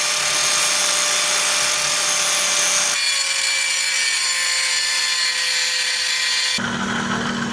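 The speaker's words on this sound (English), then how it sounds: "I'm gonna use the grinder and grind this shaft till this pulley fits." An angle grinder grinds down a steel shaft so a pulley will fit, for a homemade gas-electric hybrid trike, producing a loud continuous high whine that shifts in pitch as pressure changes, close up and without talk.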